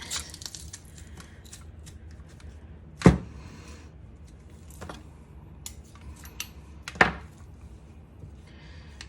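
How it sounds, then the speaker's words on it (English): A peeled garlic clove is squeezed through a handheld garlic press at home, giving a few sharp, separate metallic clicks and squeaks spaced seconds apart against a quiet room. "And I'm going to put it in my garlic press. Smoosh it."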